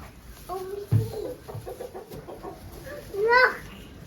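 Chickens on a farm give a few clucks and short calls, with a louder squawk near the end, close by, while a child and an adult talk quietly around them.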